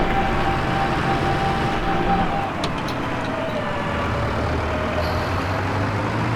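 A water truck's engine idles steadily while its tank fills, giving a loud, continuous, close rumble with a faint hiss and no speech.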